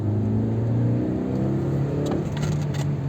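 Honda CR-V on winter tyres pulls away hard on snow, its engine droning loud and steady and rising in pitch, with a whirring note and brief higher squeals near the end.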